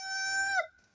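A big breeding rooster crows once, nearby and clear, with the call ending abruptly into quiet.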